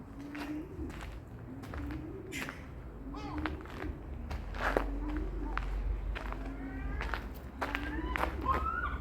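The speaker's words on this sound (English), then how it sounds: "our seagull friends make a home" Seagulls call with short repeated cries around the ruins of a priory at Christchurch, loud and near. Footsteps and faint voices sit underneath throughout.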